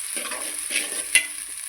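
Crab curry fries in very hot oil with a bright steady sizzle while a spoon stirs in short scraping bursts and taps the pan once, close and clear.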